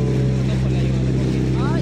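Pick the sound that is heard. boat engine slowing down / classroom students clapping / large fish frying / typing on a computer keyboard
boat engine slowing down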